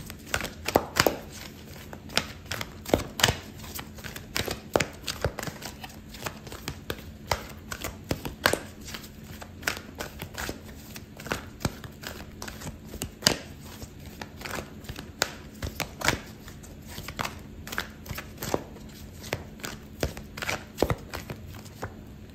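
Tarot cards being shuffled nearby, heard as a long run of crisp, irregular slaps and riffles repeating throughout with no voices.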